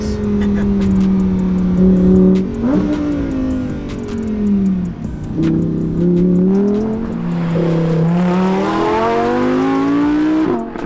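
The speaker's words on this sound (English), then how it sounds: "It sounds like a Lamborghini should sound." A loud Lamborghini Huracan Evo engine revs up and down repeatedly, its deep growl rising and falling in pitch over about eleven seconds.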